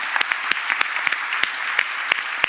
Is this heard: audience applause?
yes